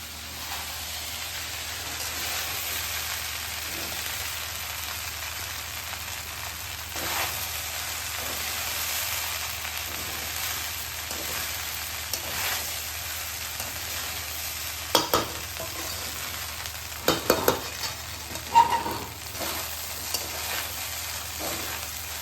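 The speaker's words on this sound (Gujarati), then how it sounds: "એકદમ હલકા હાથેથી આપણે મિક્સ કરવાનું છે." Jeera rice is gently stirred in a pan with ghee tempering, a soft continuous sizzle broken by scattered scraping clinks of the spoon, louder near the end.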